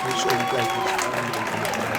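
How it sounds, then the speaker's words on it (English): Applause from a crowd at a Newark city ceremony honouring a featherweight boxing champion, a moderate, steady clapping under a speaker's voice. "Want to give her a round of applause."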